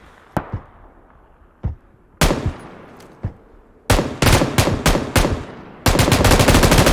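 Gunfire in the PUBG battle royale game: sharp single shots spaced irregularly, then clustered bursts of rapid fire building to a sustained loud automatic volley at the end, close and dry with no talk.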